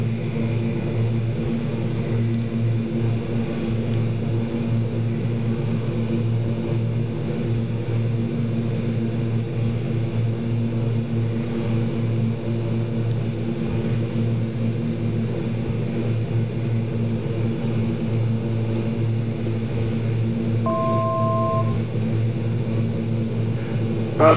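Twin turboprop engines of a Flight1 Super King Air B200 in a flight simulator, a steady droning hum with strong low tones that holds unchanged throughout, plus a brief faint tone near the end.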